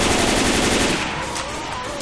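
Loud, continuous automatic gunfire from the Left 4 Dead 2 video game, dense rapid shots filling the whole brief moment at close range.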